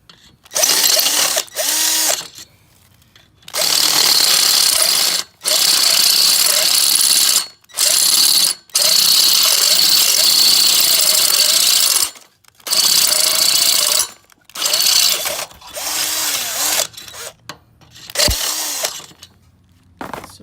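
Loud, grinding power-drill bursts bite into the metal of a Volvo XC90 flex pipe in repeated stretches of a few seconds each, separated by short pauses.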